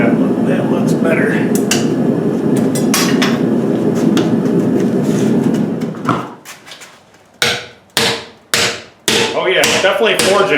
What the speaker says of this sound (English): Oh yeah, definitely forging.